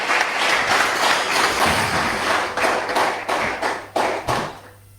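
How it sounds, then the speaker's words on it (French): Applause and clapping from a congregation at an evangelical church service: a dense, sustained patter of many hands that breaks into a few separate bursts before fading toward the end. "Sous vos acclamations encore."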